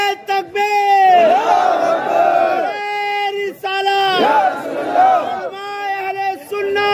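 A large crowd at a religious gathering answers a takbir call with loud, sustained unison chanting, two long roaring waves of many voices, close and dense, separated by a brief pause.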